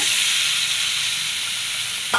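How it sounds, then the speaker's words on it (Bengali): Spice paste frying in oil in a pan, a steady bright sizzle with a hissing wash that eases slightly over time, ending with a brief clink or stir, with no talking. "মশলাটা ভাজা হয়ে গেছে মশলা থেকে তেল ছেড়ে দিছে"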